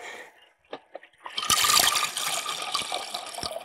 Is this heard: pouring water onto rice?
yes